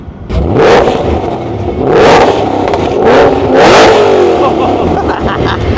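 A race-gas-fueled shop car engine revs hard in several loud bursts, rising and falling, with a rough idle rumbling between them and voices faintly underneath.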